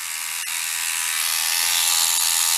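A battery-powered parts-cleaning brush running on AA batteries, its head spinning and moving up and down, gives a steady, close, high-pitched buzzing whir that holds without a break.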